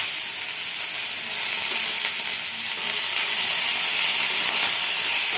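Mixed vegetables for shukto fry in a pan with radhuni spice, giving a loud, continuous close sizzle and hiss that swells slightly toward the end.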